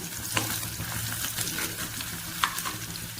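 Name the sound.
sautéing onions with a bay leaf for chicken salna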